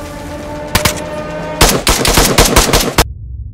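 A gun in DayZ fires during a raid, first a couple of loud isolated shots, then a rapid burst of close, sharp automatic gunfire that ends abruptly in silence.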